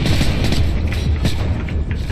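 Loud, rapid gunfire in a Call of Duty: Modern Warfare 3 Special Ops mission, a run of heavy thumping shots and mechanical clanks repeating over a rumbling battlefield din.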